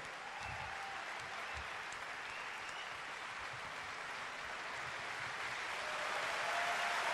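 Steady, broad applause from a large audience at an outdoor concert in Parco Sempione, distant and continuous, swelling slightly toward the end.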